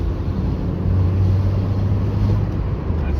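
Volkswagen Lupo with a 1.0 litre, 49 horsepower engine driving along, giving a steady low droning hum with rumble and wind noise throughout.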